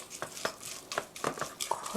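A cabbage roll filling seasoned with ground black pepper is mixed by hand or spoon in a bowl, giving soft, irregular squelching strokes, quiet and close.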